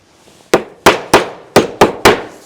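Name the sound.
hammering to tack trim together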